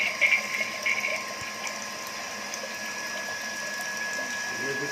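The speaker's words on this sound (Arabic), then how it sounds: "هنشغل الموتور." The motor pump of a seawater desalination filter runs with a steady mechanical whir and a faint tonal whine, starting with a few rattling clicks and then settling into an even hum, with no talk over it.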